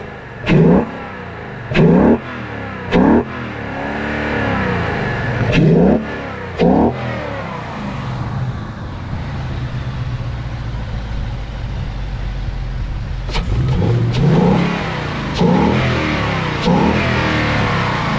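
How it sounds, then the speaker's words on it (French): A V8 Ford Mustang making about 450 hp, heard from the exhaust, with four tailpipes at the rear. Several loud, sharp revs rise and fall. A steady idle rumble runs between them, and a further cluster of revs comes near the end. "Bon on va écouter ce que ça fait derrière à l'échappement."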